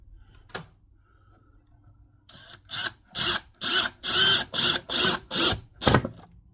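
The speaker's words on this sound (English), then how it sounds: "Goes in pretty easy with this Craftsman drill." A Craftsman power drill drives a screw into wood while building a bluebird house, giving one quick blip and then a series of short, loud whirring pulses close by, ending with a final burst.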